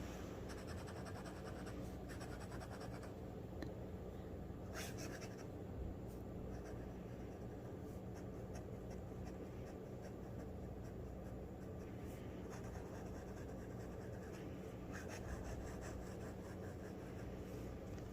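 A Dollar Tree Jot fountain pen scratches across paper in steady, faint rasping strokes with small pauses, close and quiet, with no talking.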